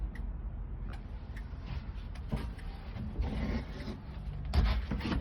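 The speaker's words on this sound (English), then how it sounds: "Hear a turn signal relay." Quiet, steady mechanical clicking of a turn signal relay in a 1948 GMC COE truck repeats at a regular pace under low background hum.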